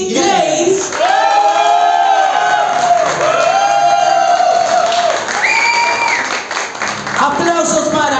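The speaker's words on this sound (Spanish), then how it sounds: "Aplausos para Vicky Grace." A bar audience at a drag talent contest claps, cheers and whoops for a contestant, with loud shouting and screaming voices layered over continuous applause throughout.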